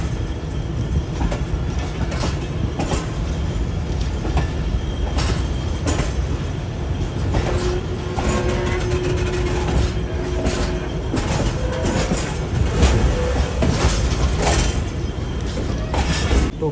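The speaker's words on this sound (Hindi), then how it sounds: "ट्रेन हमारी अप्रोच बना रही है इस वक्त डेरा नवाब साहब रेलवे स्टेशन पर" Train rolling onto the loop line at Dera Nawab Sahib railway station in Pakistan, heard from inside: loud steady rumble with rhythmic wheel clicks over joints and a brief squeal, with no distinct voices.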